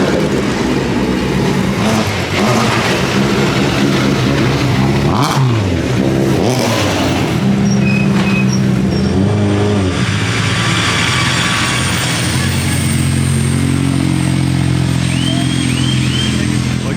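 Loud engines of classic and racing cars, including a Ferrari 275 GTB, roar past one after another returning from the Goodwood Festival of Speed hillclimb, revving and accelerating close by, with no talking.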